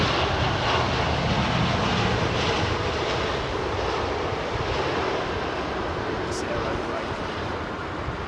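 An airliner touches down on runway 27R at London Heathrow, a broad, steady roar of jet noise and wind rush holding loud throughout, with no clear voices on top.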